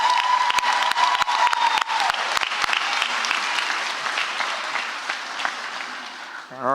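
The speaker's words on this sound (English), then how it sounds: "clap your hands if you see him on stage." An audience at a Houston high school graduation ceremony claps loudly, with sharp individual claps standing out over the dense crowd applause, which gradually eases toward the end.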